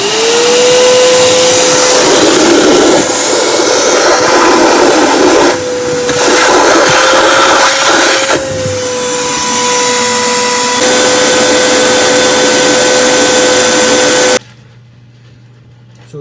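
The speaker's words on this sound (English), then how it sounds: "Notice how much the vacuum power affects the AC power on this boat." A loud wet vacuum sucks water on a boat, running steadily with a rising motor whine and rough slurping noise for about fourteen seconds, then cuts off, leaving a low hum.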